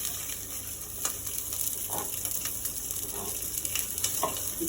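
Lamb shanks searing in olive oil in a pan, a steady high sizzle with soft crackles and occasional pops, close and unbroken.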